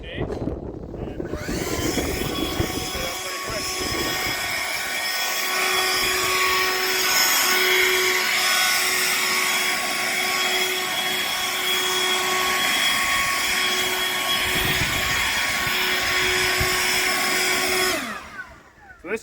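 A Greenworks 80V cordless leaf blower spins up and runs steadily for about seventeen seconds as a loud, continuous, close whine with a sustained tone, then winds down at the end.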